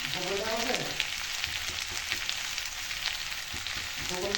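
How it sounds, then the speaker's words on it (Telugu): Vegetable pieces salted in a pan for upma fry with a steady, close sizzle throughout. Faint stirring scrapes come through now and then. "ఇంకా బాగా ఫ్రై అవుతుంది."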